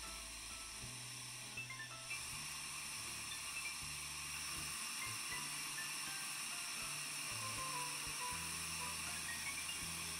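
A Devardi Glass Spartan torch melting borosilicate glass for bead making gives a faint, steady broadband hiss that runs throughout, with low intermittent hums and clicks beneath it.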